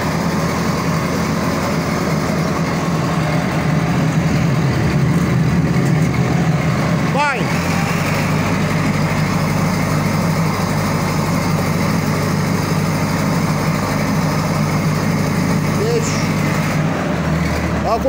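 A tractor engine drives a pellet press, giving a steady, loud mechanical drone that runs the whole time, with its pitch shifting partway through as the revs change. Voices can be heard over the machinery.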